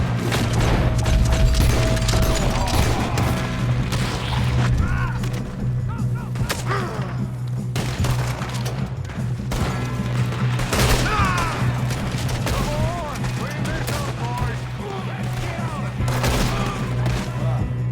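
Shootout gunfire from Red Dead Redemption 2, with dense overlapping shots and booms running steadily through the whole stretch over a constant low rumble, loud and busy, with faint voices mixed in.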